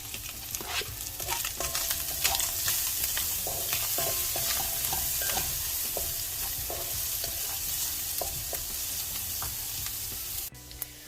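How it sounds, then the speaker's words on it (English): Diced onions fry in a hot pan for fried rice made with Jamaican seasoned rice, giving a loud, continuous crackling sizzle close by. Scattered ticks and scrapes from stirring run through it, and there is no talk. "now I'm going to go in with the onions, the diced onions"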